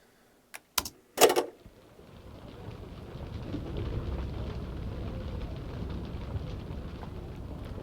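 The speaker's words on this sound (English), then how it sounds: "I got some rain on the roof hut, kind of a sound that kind of gives it that sound like they're in a jungle area" Rain falls on a hut roof in a jungle setting, a dense steady patter that builds and holds, preceded by a few sharp cracks and a short rumbling burst of thunder.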